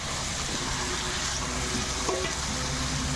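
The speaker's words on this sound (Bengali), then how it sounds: "ঝিকা আলুটাকে দিয়ে আর একটু ভালোভাবে কষিয়ে নেব" Fried ridge gourd and potato being stir-fried into a spice masala in a pan, a steady low sizzle with faint scraping throughout, moderately loud and close, no voices.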